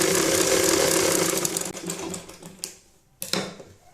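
A sewing machine runs a fast, close, rattling stitch through a rabbit hat, slowing and stopping after a few seconds, followed by a brief mechanical clack.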